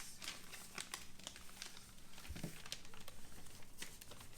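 Origami paper crinkling and rustling as a sheet is flipped over and creased along a fold line, a steady run of soft papery crackles and taps close by with no talking.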